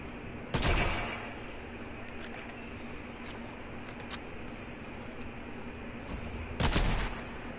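Two loud, sharp bursts of gunfire from a PS4 shooter game, one near the start and one near the end, with a steady low background hum between them and no talking.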